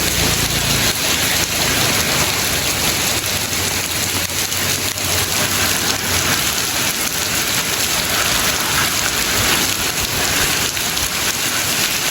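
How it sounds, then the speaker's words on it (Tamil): Heavy rain pours over flooded streets in Jaffna, a loud, dense, unbroken roar of falling water close by, with no voices. "அதுலேயே மழை செமையாக பெய்துருக்கு பாருங்க."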